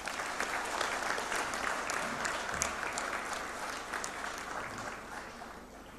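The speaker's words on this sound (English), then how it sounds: "Please give yourselves a big round of applause." A large crowd of graduates applauds at a convocation ceremony, a dense, sustained wash of clapping that stays strong and gradually eases toward the end.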